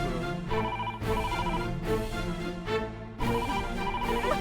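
A telephone rings in a repeating pattern of tonal bursts with short gaps, moderately loud and alone, with no voices over it.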